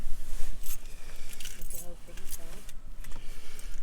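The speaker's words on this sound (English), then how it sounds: "So all it is, put the key in, twist" Key jingling and small metallic scrapes as a key goes into a camper van lock and turns, soft clinks scattered over a few seconds under a voice, with steady outdoor background noise throughout.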